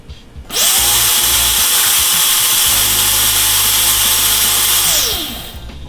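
A blender grinds dried seaweed into a fine powder, a loud, steady high-pitched whir that starts abruptly, holds for several seconds, then winds down, with no talking.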